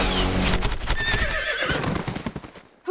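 A cartoon horse effect with a loud, close whinnying neigh over rapid clip-clopping hooves, the hoofbeats carrying on briefly after the neigh fades, then cut off abruptly.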